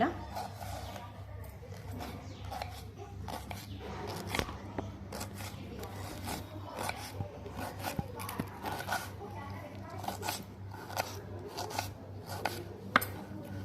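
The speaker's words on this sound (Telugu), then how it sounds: "ఫస్ట్ అయితే దొండకాయలు కట్ చేసుకోవాలి" Ivy gourds (dondakaya) being thinly sliced with a knife for curry, a fast run of soft close taps on a board, quiet and steady, with a low hum underneath and occasional talk.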